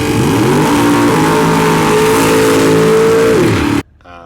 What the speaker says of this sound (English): Truck launches well.